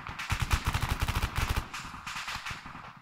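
Combat in the video game Arma 3: bursts of rapid automatic gunfire, roughly twenty close, punchy shots in quick succession, followed by more distant, muffled firing.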